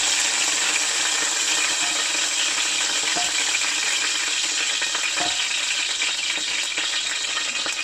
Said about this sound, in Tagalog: Isunod natin na iprito itong 2 pang natitira.